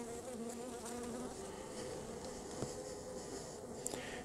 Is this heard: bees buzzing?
yes